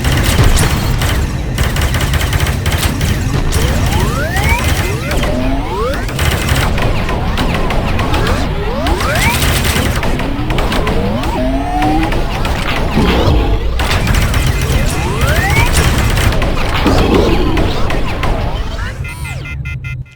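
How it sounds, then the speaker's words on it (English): Twin pistols fire rapidly in the VR shooter Space Pirate Training, a loud, near-continuous string of sharp shots mixed with rising electronic whoops and zaps from the game. "And now I've pulled out 2 pistols, and I'm getting a little bit cocky thinking I can do it with the pistols."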